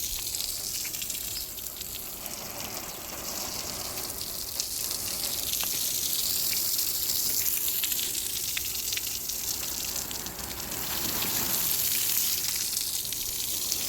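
Early in the morning, water is sprayed onto new house construction to cure it, a steady loud hissing spray that swells and eases without pause.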